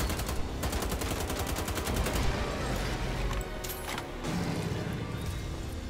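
Rapid automatic gunfire in Wolfenstein: The Old Blood, with fast repeated bursts of shots over a dense roar of combat noise, loud and close, easing off toward the end.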